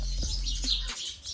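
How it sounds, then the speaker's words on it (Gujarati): A sparrow chirps a few quick, bright notes close by at a house, brief and light over a steady low hum. "ચકલી બોલેલી"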